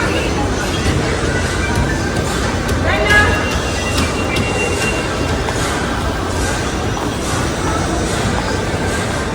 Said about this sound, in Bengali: এই ট্রেন ছেড়ে দিল